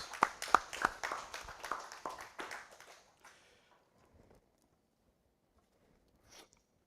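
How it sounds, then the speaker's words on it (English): Audience applause for a choir, a burst of clapping that fades over about three seconds into near silence, followed by a faint brief sound. "let's give the choir another round of applause for a couple of excellent selections"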